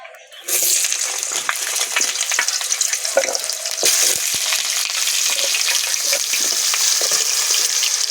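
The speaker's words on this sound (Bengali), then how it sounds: "আমি এখানে 2খানা আলু ডুমো ডুমো করে কেটে রেখে দিয়েছি, ভেজে নেব প্রথমে।" Two potatoes cut into cubes hit hot oil in a pan and burst into a loud, close, continuous sizzle that stays strong throughout, with occasional scraping from stirring.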